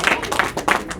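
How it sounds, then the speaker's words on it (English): Short burst of applause at a school board meeting honoring student performers, with bursts of clapping rising and falling at close range over a general crowd din. "Give another round of applause"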